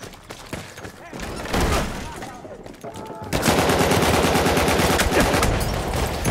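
Gunfire in Battlefield 1, first scattered shots, then a dense, loud rattle of sustained automatic fire and explosions filling the second half, with a player talking over it.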